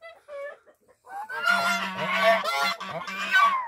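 Goose honking loudly at its nest on a small farm, a few quiet calls first, then a sustained run of harsh, overlapping honks close to the listener.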